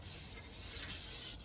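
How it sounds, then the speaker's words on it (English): Long, uninterrupted sanding strokes on a scrap-wood bow, a steady close abrasive rubbing that runs continuously with no voices. "Uninterrupted sanding strokes."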